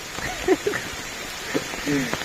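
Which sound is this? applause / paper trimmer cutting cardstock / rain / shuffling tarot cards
rain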